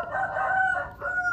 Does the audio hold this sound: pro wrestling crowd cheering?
no